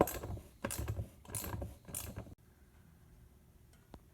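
A front axle being worked and spun out of a Honda ATC front hub, with about four bursts of close metallic grinding and ratcheting, then near quiet broken by a single small click.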